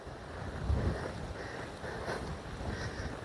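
Wind gusts roar steadily near a cathedral churchyard on a cold, wet day, buffeting the microphone in a dense, continuous rush.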